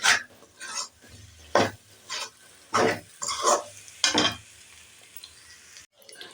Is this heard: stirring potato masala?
yes